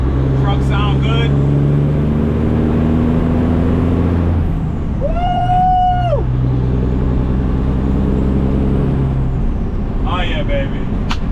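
A truck engine idles loudly and steadily throughout, with an air-brake hiss and a rising whine in the middle while someone talks over the running motor.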